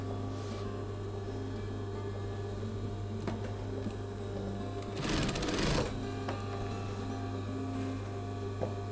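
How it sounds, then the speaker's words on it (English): A sewing machine stitches cotton bias binding onto the neck edge of a sun cape, a low steady motor hum with a brief, louder burst of whirring stitching midway, fairly quiet and with no voices. "What you want to do is you take one folded edge and you stitch it to the neck edge."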